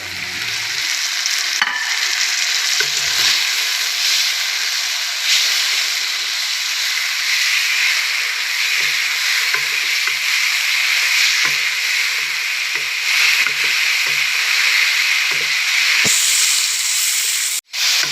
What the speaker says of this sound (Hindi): तकरीबन 10 से 12 मिनट कलेजी को इस मसाले में भूनते हुए पकाएंगे।